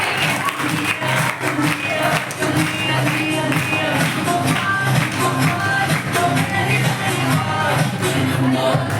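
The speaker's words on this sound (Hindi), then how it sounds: "तालियां बजा दीजिए बच्चों के।" Audience applause for children performing at a college Hindi Day cultural program, a dense steady patter of many hands clapping throughout with crowd murmur, fairly close and continuous.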